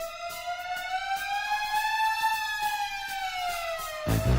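A rising-and-falling siren wail from the Inspector Gadget theme music, a clear sustained tone with strong harmonics sweeping slowly upward then down before a thumping beat cuts in at the end.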